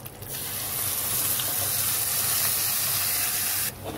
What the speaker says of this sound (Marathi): तेलात चांगलं भाजून घ्यायचं मसाल्याला.